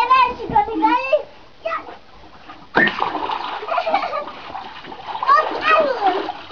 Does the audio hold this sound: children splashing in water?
yes